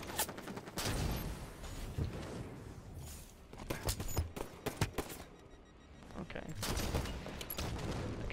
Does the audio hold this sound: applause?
no